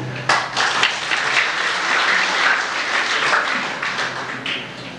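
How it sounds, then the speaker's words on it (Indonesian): Sustained audience applause at a university graduation ceremony in Manado, dense and steady clapping from a large crowd that begins abruptly and continues throughout without talk. "Kita tepuk tangan untuk Pak John."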